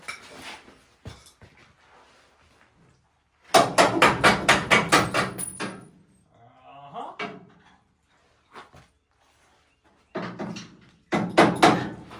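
A hammer strikes a loose part on an old OBS Chevy truck in quick bursts of sharp metal clanks, several hits each, separated by pauses with a short bit of speech and clatter.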